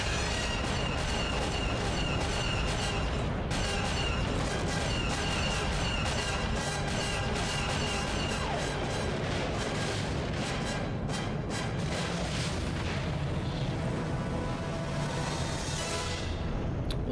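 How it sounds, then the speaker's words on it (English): A prolonged, loud rumbling explosion from the Star Wars Jedi Knight: Jedi Academy video game on Korriban in the Tomb of Ragnos, dense roaring blasts sustained throughout with dull booming underneath. "Well, that exploded cleanly, didn't it?"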